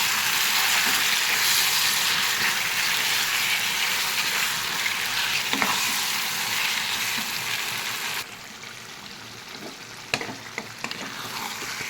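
Chicken meat being sautéed dry (kosha) in a pan gives off a loud, continuous, close-up sizzle with occasional stirring knocks, dropping somewhat quieter for the final few seconds.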